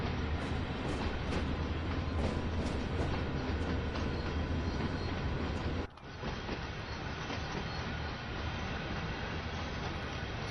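A train running in the Train Sim World 4 video game gives a steady, loud rumble of rolling wheels and rail noise throughout, with a brief dip near the middle before the drone carries on unbroken.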